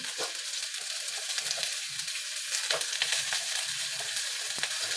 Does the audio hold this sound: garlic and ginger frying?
yes